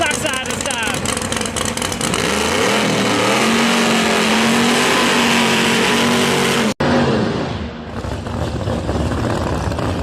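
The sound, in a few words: drag race car accelerating down the strip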